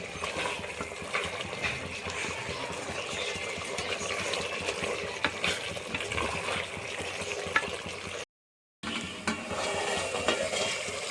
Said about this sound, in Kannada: ನೋಡ್ರಿ ಚೆನ್ನಾಗಿ ಕುದೀತಾ ಇದೆ